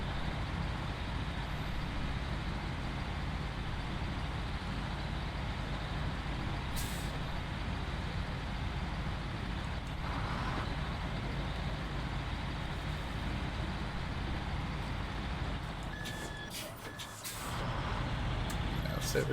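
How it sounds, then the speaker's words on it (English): Truck engine in the off-road driving game SnowRunner, whose drive belt squeals, runs steadily and loud throughout with a constant broadband rumble and high whine, ending in a few brief hissing bursts like an air brake. "Is it just me, or is this truck sound like it has a really squeaky belt on it?"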